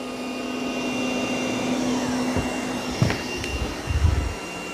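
A Eureka J15 Pro Ultra robot vacuum runs on its highest suction setting with a steady, loud whirring hum, a few clunks and bumps near the end, and no talking.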